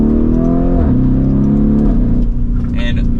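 A Lamborghini Urus SUV accelerating hard in second gear, its engine note loud and close, rising in pitch, dipping briefly at a shift, then pulling again with a steady rumbling roar.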